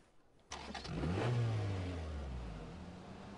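A car engine in the battle-royale game PUBG starts up abruptly and revs loudly, its pitch climbing then easing into a sustained, steady drone that fills the rest of the clip, with no talking over it.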